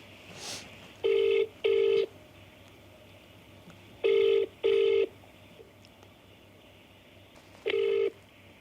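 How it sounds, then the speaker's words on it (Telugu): An outgoing call's ringback tone sounds in three pairs of steady beeping rings, fairly quiet, with pauses of silence between them. "రింగ్ అవుతుంది."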